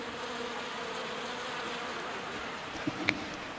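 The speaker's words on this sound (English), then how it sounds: "all the bees that are hanging out." Bees buzzing around freshly extracted honey at an outdoor festival, a steady swarm drone close to the microphone, with a couple of louder passes and a faint click near the end.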